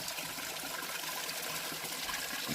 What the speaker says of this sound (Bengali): সব পাহাড়ের ফিল্টার করা জল এগুলো